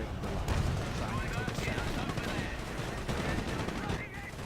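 Tank and small-arms gunfire in a World War II strategy video game, dense continuous bursts and rattling shots at moderate level, with a voice talking underneath.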